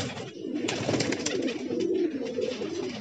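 Pigeons coo steadily in soft, throaty murmurs, several birds close by with overlapping calls and no talking.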